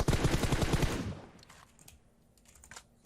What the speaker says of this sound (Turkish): Baya bir silah sesi geliyor oraya gideceğim.